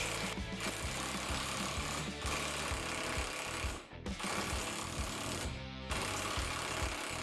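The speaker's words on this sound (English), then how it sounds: "And then just go to town on it with the impact wrench." An impact wrench loosening a nut on a vehicle held with ratchet straps, hammering loudly and continuously at close range with a few brief pauses and changes in pitch.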